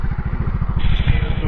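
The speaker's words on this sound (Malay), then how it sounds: "Kita naik motor ke dalam." A motorcycle rumbles close by with a rapid, pulsing engine beat as it rides into a village on Lingga, the note shifting partway as it moves along.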